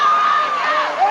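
A packed wrestling arena crowd at a Convention Center bout cheers and shouts in a brief, loud burst, with high yells rising above the roar.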